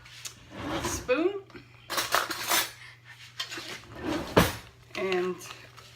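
Spoon clinking and scraping against a bowl while a vegan Waldorf salad with quartered apple is mixed, several scrapes and clatters close up, with talking alongside.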